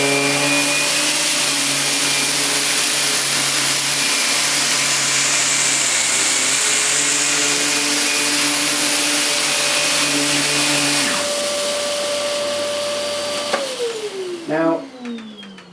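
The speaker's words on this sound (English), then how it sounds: "In fact, I'll turn the machine on first and then I'll activate the power head." A Vax Air Silence cylinder vacuum cleaner with its power head switched on runs as a loud, steady motor drone with a fixed hum. The pitch shifts partway through, then the motor winds down with a falling whine near the end.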